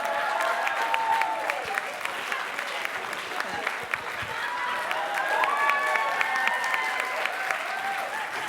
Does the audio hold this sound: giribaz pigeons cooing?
no